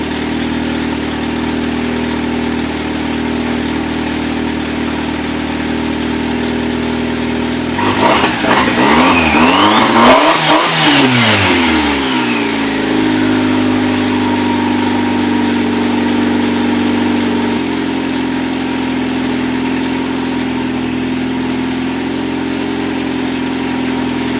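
A turbo project car engine, shaking on its mount with smoke rising from the header wrap, idles with a steady rumble, then revs up sharply in a loud climbing roar and drops back to a lower, steady idle.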